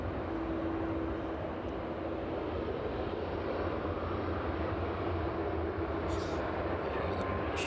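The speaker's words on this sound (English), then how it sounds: "DHL just making its way down to the threshold runway 27 there" A DHL Boeing 747 cargo jet taxiing toward runway 27 at East Midlands Airport in the evening, a steady, dense engine roar that stays constant and fairly distant throughout.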